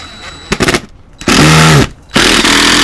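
A power drill drives a screw into wood while fitting exterior electrical PVC conduit, with two loud sustained whirring bursts separated by short pauses, following a brief burst of sharper handling or motor noise.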